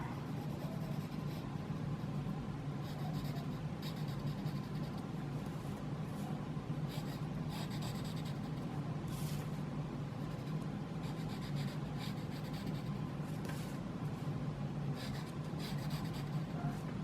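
Pencil drawing and shading a cinquefoil on paper: a steady, soft graphite scratching and rubbing that continues for the whole stretch, close up and quiet, with no talking.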